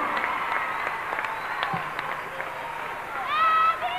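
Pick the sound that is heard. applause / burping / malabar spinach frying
applause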